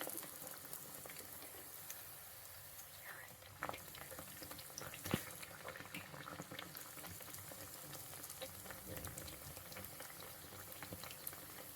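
Rice pathiri, a fried rice roti, frying in hot oil: a steady, soft crackling bubble with a few sharper pops, continuous and fairly quiet.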